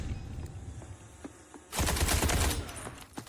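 Gunfire from the video game Delta Force erupts as a dense, loud automatic burst lasting nearly a second, following a stretch of low, quieter game ambience with faint distant pops.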